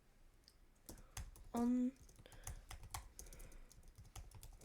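Keys clatter on a computer keyboard while Roblox Studio script code is typed, a quiet run of irregular clicks with a short tonal blip partway and a few spoken words mixed in.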